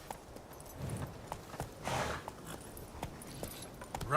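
Roach the horse's hoofbeats in the Witcher 3 video game, a quick, regular clip-clop of hooves at moderate distance, fairly quiet with a slight swell midway.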